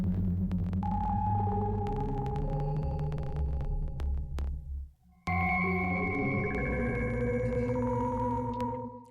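Sustained Waldorf Iridium Core synthesizer chords ring out with a wide, washy reverb tail, dipping briefly before a new layered chord swells in and holds.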